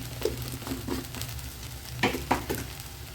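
Egg frying in a pan with a little pepper powder gives a close, crackling sizzle, with sharp spits and pops that rise in a cluster toward the end, and no talk.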